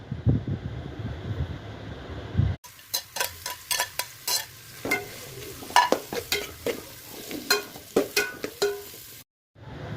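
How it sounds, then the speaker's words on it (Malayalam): Sliced onions dropped into hot ghee and oil in a pan set off a continuous sizzle, broken by repeated scraping stirs and utensil clinks at close range. "ഓയിൽ ചൂടായി വരുമ്പോൾ സബോള ഇട്ട് കൊടുക്കാം"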